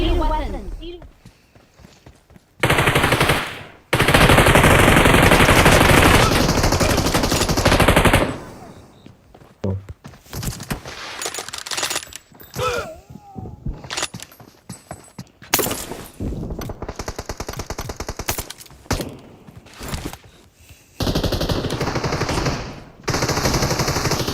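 Gunfire in the mobile battle-royale game PUBG Mobile comes in rapid automatic bursts and scattered single shots, mixed with footsteps and game voice announcements, loud and close throughout.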